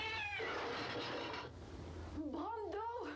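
A cat meows twice in a horror film, the rising and falling cries heard clearly after a stretch of loud, dense sound with people talking over the start.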